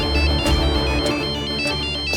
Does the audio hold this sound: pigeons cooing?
no